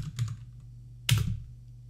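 A computer keyboard is typed on in two short bursts of quick, close key clicks separated by a brief pause.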